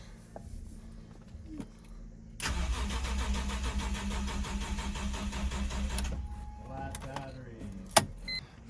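A BMW E46 starter cranks the engine steadily for several seconds with no fuel in the tank, so it never catches. It stops abruptly, followed by faint clicks, a jingle of keys and a sharp knock.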